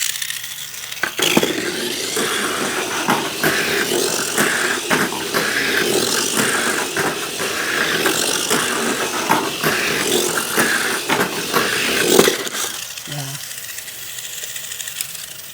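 A Festa Jaune mini 4WD car with a 27,000 RPM Venom-tuned box stock motor runs steadily, giving a continuous buzzing whir dotted with sharp clicks and rattles, easing off near the end.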